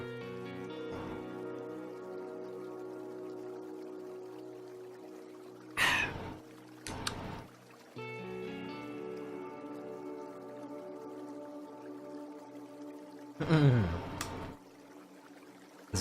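Someone takes a drink of water during a reading of a story game, with two short bursts of pouring and swallowing standing out over a soft sustained tonal background, otherwise quiet.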